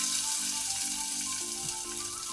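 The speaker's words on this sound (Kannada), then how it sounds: "ಈರುಳ್ಳಿ ಸ್ವಲ್ಪ ಕಲರ್ ಚೇಂಜ್ ಆಗೋ ತನಕ ಫ್ರೈ ಮಾಡ್ಕೊಳ್ಳೋಣ." Chopped onion with curry leaves sizzles steadily in hot oil for a ridge gourd palya, a close, continuous frying hiss with faint stirring and no voices.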